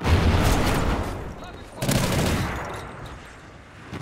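Rapid gunfire in a Call of Duty match, dense bursts of shots that swell, dip briefly and return, filling the whole clip at close range under faint game noise.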